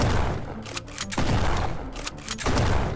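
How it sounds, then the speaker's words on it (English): Shotgun blasts in the video game Ancient Warfare 3, fired point blank: several loud, close booming shots in quick succession. "4 shots with a shotgun point blank to the head to get a kill"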